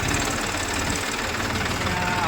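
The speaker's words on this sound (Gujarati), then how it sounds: "પથ્થરવાળી જમીન હોય એટલે ટ્રેક્ટર સ્લો હાલે" A tractor engine labouring slowly across stony farmland during sowing, a steady close mechanical drone with a faint knocking rumble that holds at an even level throughout.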